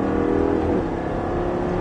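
A car revving hard at full throttle on a driving-school racing circuit at Folembray, a steady loud engine drone with a rising then shifting pitch, close and continuous, no talk.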